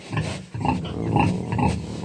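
Piglets grunt and snort in a steady run of short, close bursts, one after another without pause.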